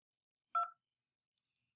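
A single short phone keypad tone sounds as a key is pressed to log in to a Duo two-factor call, fairly loud and isolated, followed by faint high clicks and near silence.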